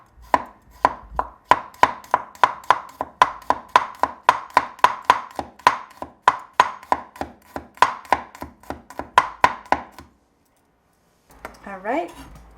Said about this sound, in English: Now, with garlic, the key is just to have it thin slice